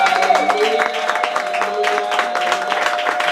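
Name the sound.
church congregation applauding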